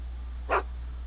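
One short, moderately loud dog bark over a steady low hum, with nothing else around it.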